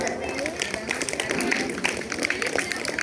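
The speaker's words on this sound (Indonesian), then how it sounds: "Tepuk tangan dengan benar." Audience applause at a quiz contest for female Islamic boarding-school students, a dense run of many hands clapping steadily for about three seconds, fairly loud and close, with crowd murmur mixed in.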